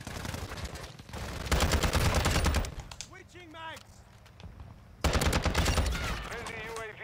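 An ISO Hemlock rifle fires in Call of Duty MW2, loud sustained bursts of rapid automatic gunfire broken by a short pause with someone talking, then another long burst.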